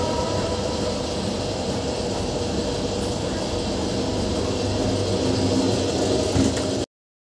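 Interior of the Modhumoti Express, a broadgauge passenger train on the Dhaka to Rajshahi run, with a steady rumbling hum and rattle of the moving carriage continuing at even loudness throughout, with no one speaking.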